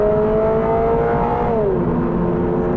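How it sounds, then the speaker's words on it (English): A 2022 Toyota GR86 accelerates at full throttle in a drag run, engine note climbing steadily and loudly before dropping as it shifts, with constant road and wind roar underneath. "All right, foot all the way down."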